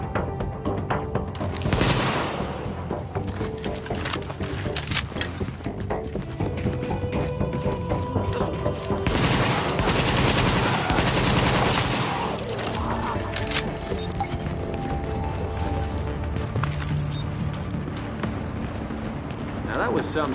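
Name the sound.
gunfire in a firefight, video game The Division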